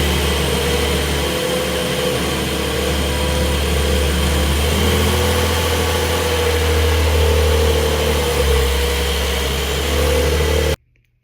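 A 2025 Porsche 911 Carrera Cabriolet engine runs steadily at a smooth, deep idle with a slight rise in revs, loud and close, cutting off abruptly at the end.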